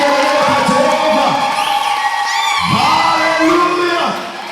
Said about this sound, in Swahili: Piga makofi na vigelegele kwa Jehova